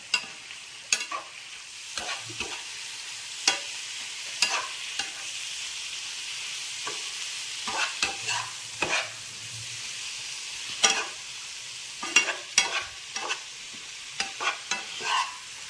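Prawns frying in oil in a pan for a coconut and mango prawn roast, a steady soft sizzle punctuated by irregular sharp spatters and stirring clicks, with no talk.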